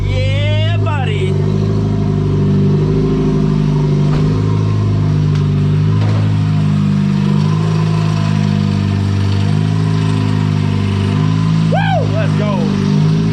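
A 1.8T turbo-swapped VW Golf 3 engine roars loudly and steadily with a deep, thick drone, while excited voices whoop and shout over it at the start and near the end.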